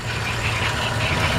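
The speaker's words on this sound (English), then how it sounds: "Just a nice running flathead V8." A 1938 Ford truck with a flathead V8 and dual exhaust idles with the hood open, a steady, even engine rumble close by, no talking.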